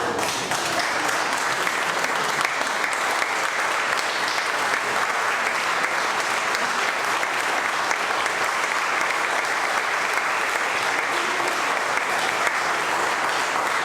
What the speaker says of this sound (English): I'd like to bring all of the actors out. Have a round of applause for them.